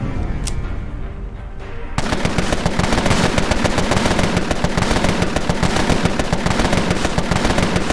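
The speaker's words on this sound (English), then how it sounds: "Suppressing fire!" Suppressing gunfire erupts in the gangster strategy game Empire of Sin as a loud, sustained burst of rapid automatic shots. It follows a quieter stretch, then runs at a steady rattling rhythm without pause.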